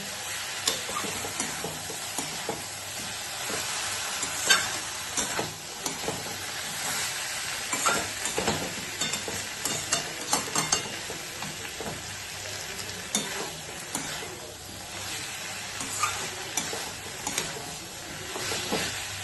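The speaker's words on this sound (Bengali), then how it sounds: "মোচাটা দেখো কষা হয়ে গেছে, এর জলটা কিন্তু শুকিয়ে গেছে" Banana flower cooked with shrimp stir-frying in a pan for a Bengali mocha ghonto, giving a steady close sizzle and hiss with intermittent scraping stirs and clinks throughout, no talking.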